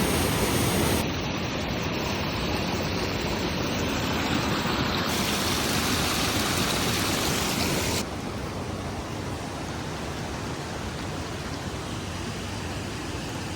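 Shallow water flowing steadily through a little glen near salty-smelling shore ruins, a dense, even broadband rush heard up close, continuous and unbroken with no voices.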